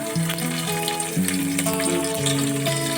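Mustard seeds, cumin, whole pepper and green chillies frying in hot oil, a close steady sizzle and crackle with occasional stirring, heard alone without talk.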